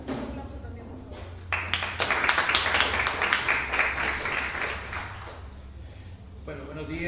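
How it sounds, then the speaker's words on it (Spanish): A conference audience gives loud, sustained applause to welcome a speaker at a Smart City event. The clapping builds quickly and holds dense for several seconds, then fades, with talk before and after. "recibámoslo con un fuerte aplauso también, por favor"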